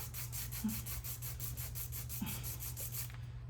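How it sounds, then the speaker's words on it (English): A surface is being filed down to roughen it while making a DIY badge reel or phone stand, heard as a steady close rasping rub with a few soft knocks, no voices. "So I'm just filing it down, making it rough so it'll adhere better."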